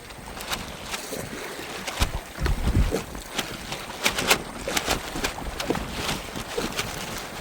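A fishing boat moves along a river in strong wind and waves, with constant gusting wind noise and irregular thumps and splashes of water against the hull, no voices.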